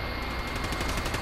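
Rapid automatic gunfire in a battle royale video game, a continuous burst of closely spaced shots at moderate level with no talk over it.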